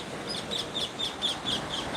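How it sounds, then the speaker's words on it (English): Birds on a Barbados beach at sunrise chirp in a quick, steady series of short, repeated high calls, moderately near and clear over a soft constant wash of surf and breeze, with no voices. "Birds sound beautiful out here this morning."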